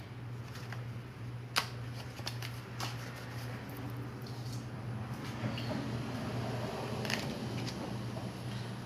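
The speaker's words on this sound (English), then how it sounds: "I'm going to shuffle and see if it comes out" Tarot cards shuffled at a steady patter with a few sharper flicks and snaps, close and fairly quiet over a constant low electrical hum.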